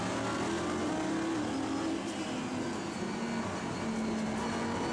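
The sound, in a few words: Corvette race car accelerating at Spa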